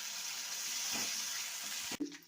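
Ginger garlic paste fries in hot oil, making a soft, even sizzle and hiss with a small clatter near the end, quiet and close.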